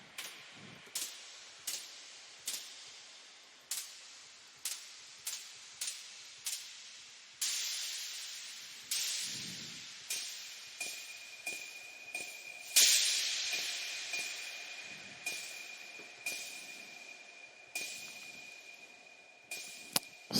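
Crash cymbal sample reshaped through a vocoder with reduced bands for psytrance production: a series of bright, hissy noise bursts with sharp attacks and decaying tails, repeating irregularly, then a longer sustained washy stretch with a thin whistling tone, no voices.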